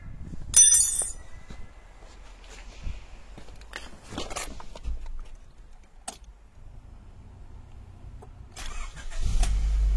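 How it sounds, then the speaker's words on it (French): Honda car engine starting after a fuel filter replacement: a brief high whine and clicks, then cranking bursts and the engine catching into a low idle rumble, recorded close up in a quiet space. "notre moteur est prêt à démarrer. On va faire l'essai tout de suite."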